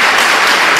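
Congregation clapping for Jesus during a church Easter service, a brief, loud, close burst of applause.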